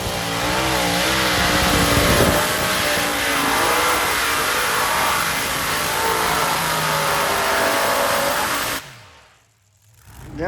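American Thunder pulling tractor roars at a tractor-pulling national championship, a loud sustained engine howl with shifting pitch that holds for about nine seconds, then drops away sharply before rising again.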